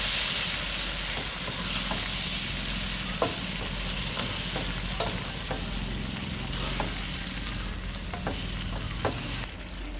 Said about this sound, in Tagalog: Habang ginigisa po natin ng hipon